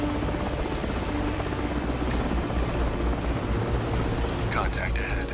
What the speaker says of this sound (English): Shit, chopper. Find some cover.